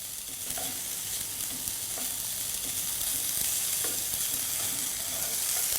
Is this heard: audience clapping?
no